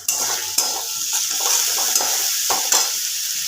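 A spice paste of turmeric, Kashmiri red chilli powder and coriander powder sizzles in hot oil as it is stirred, with steady frying hiss and repeated scrapes and clinks of a spatula against the pan, close by and with no talking.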